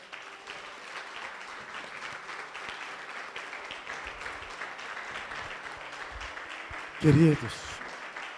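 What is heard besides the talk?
church congregation applauding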